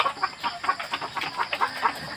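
Laying hens on an egg farm, recently moved from DIY cages to steel cages, clucking in short, rapid repeated calls, close and moderately loud, one bird's pulses standing out over quieter flock chatter.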